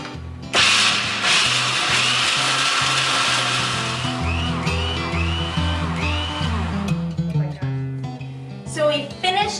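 A food processor pulses roasted almonds into powder: a loud, grinding whir in several bursts with brief pauses between them, and the rattle of nuts against the bowl.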